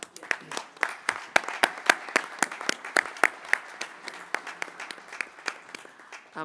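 Applause from a small group, individual claps sharp and distinct, keeping an uneven rhythm for several seconds.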